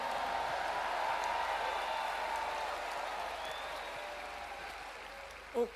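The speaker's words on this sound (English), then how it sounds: "give the Lord the biggest hand clap and the mightiest shout" Distant, faint clapping and shouting from a church congregation at a conference service, a soft continuous crowd roar that fades gradually, ending with a brief sharp knock.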